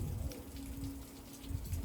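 Cold rain falls steadily on a mountain during a December pilgrimage to Sri Pada, a soft, even hiss of drops heard faintly and at a distance, with no voices.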